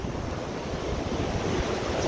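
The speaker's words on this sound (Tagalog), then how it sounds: "Sa lalaki ng alon talaga." Large waves crashing on a shore where fishing boats are pulled up during a typhoon, a loud, continuous roaring surf mixed with heavy wind buffeting the microphone.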